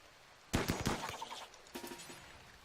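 A burst of rapid gunfire in the RimWorld video game, a quick string of sharp cracks followed a moment later by a second, quieter volley, fairly faint overall.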